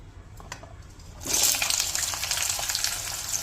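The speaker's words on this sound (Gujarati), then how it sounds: "અને આ કાજુ છે આવી રીતે સમારીને એને તળવાના છે" Chopped cashews tipped into hot oil, a low murmur that suddenly swells into a loud, bright frying sizzle which keeps bubbling steadily to the end.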